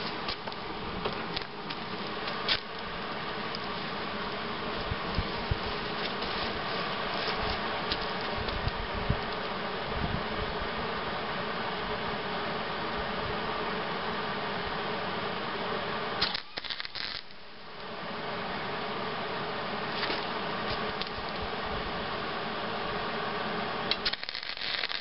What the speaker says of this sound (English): So I'll get this little bracket welded on, and I'll tack it and see how it looks and go from there.